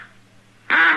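A hand-blown duck call sounds a short, loud nasal quack that bursts in near the end, following a low steady hum.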